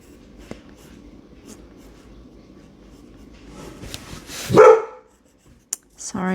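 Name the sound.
dog barking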